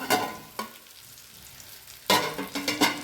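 A spatula scrapes and stirs potato yam in a pan in short bursts, with a gentle sizzle in the quieter gap between strokes.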